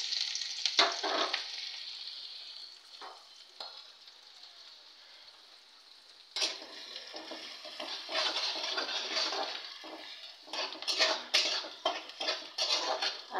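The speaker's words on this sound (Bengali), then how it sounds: "প্রথমে কাঁচামরিচ পেঁয়াজ ভুনে নিচ্ছি" Green chillies and onion frying in a pan, a soft sizzle punctuated by scraping and clinking of a spoon against metal, growing busier and louder in its second half.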